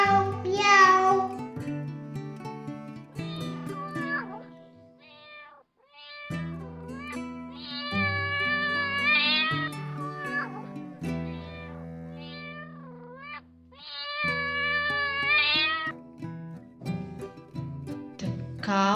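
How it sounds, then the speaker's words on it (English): A cat meows in a long series of drawn-out, tonal calls with rising and falling pitch, grouped in several bursts separated by short pauses, loud and close. "The cat sounds as meow, meow, meow."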